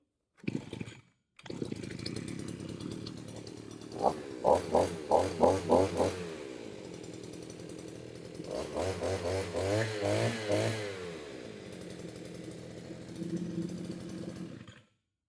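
A 5-in-1 gas weed eater engine sputters, catches and revs in rapid pulses, then settles into a loud, buzzing run before cutting off.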